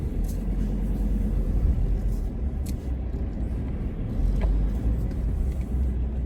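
A long vehicle reversing on a busy road gives off a continuous low rumble of engine and road noise, with a few faint clicks and thuds on top and no speech.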